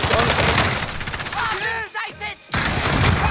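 Rapid bursts of gunfire from the video game Call of Duty Warzone, dense and loud, with a short lull in the middle, while voices talk over the shooting.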